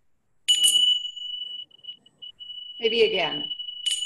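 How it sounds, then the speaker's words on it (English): A Tibetan chime struck once, ringing with a bright, sustained metallic tone that hangs steadily under a voice speaking briefly, then is struck again near the end. "They're Tibetan chimes. So I'm just gonna ring this once"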